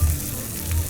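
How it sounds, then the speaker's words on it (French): Eggs cracked onto a hot pan greased with spray oil sizzle loudly and close up, a short continuous hiss with no talk. "Tu mets bien la poêle chaude, tu pètes les œufs d'un coup dessus et ça ne colle pas"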